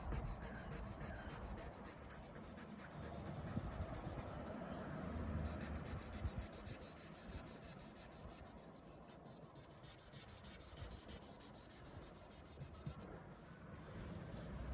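Wet sanding of car paint on a quarter panel, a continuous close rubbing and scraping with a gritty, slightly rhythmic texture, steady and fairly quiet throughout.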